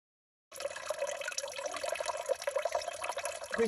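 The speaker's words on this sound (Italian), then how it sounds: "Qui si incontra una sorgente permanente, bellissima." Water flows from a permanent spring along a wooded mountain trail, a steady close babbling trickle that begins abruptly after a short silence and carries on without talk.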